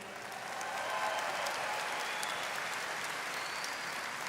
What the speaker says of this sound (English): Let's give another round of applause for our preliminary selection committee.